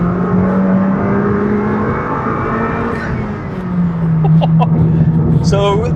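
A Honda Civic Type R FK2 turbo car accelerates hard in second gear on the road, a loud cabin-heard engine drone rising in pitch, then a gear change and turbo whoosh near the end.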